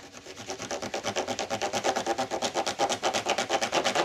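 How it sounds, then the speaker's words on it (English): A rub-on tool scrapes back and forth over cardstock laid on an embossing folder, a steady rhythmic rasping with even strokes about eight per second, close and alone. "this little tool I use for rub-ons. You could just rub over."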